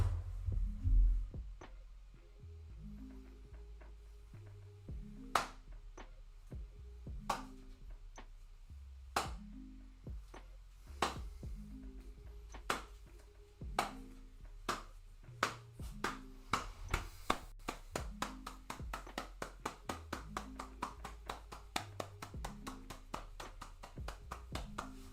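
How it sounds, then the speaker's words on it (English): A single person does a slow clap in an office while recording motion capture, sharp isolated claps at first spaced a few seconds apart, then gradually speeding up into a quicker, steady run of claps near the end. "Do another slow clap."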